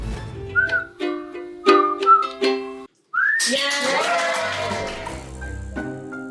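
Several people whistle a song tune, with clear melodic phrases broken by short pauses, then a fuller, busier stretch of whistling later on.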